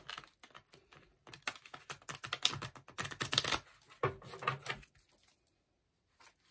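Oracle cards from a mirror-themed deck being shuffled by hand, a run of quick, crisp riffling and slapping clicks with brief pauses, close and fairly quiet, ending in near silence.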